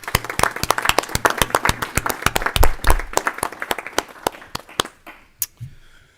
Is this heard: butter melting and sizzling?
no